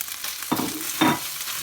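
Turmeric and chili powder are stirred into hot oil in a frying pan for a kidney bean rajma curry, with two short, close scraping stirs over a low sizzle.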